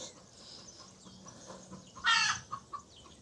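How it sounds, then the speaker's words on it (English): A chicken at a seaside spot in Spain gives a short, sharp burst of clucking close by, with a couple of quieter follow-up clucks amid faint background noise. "I got distracted by the chicken."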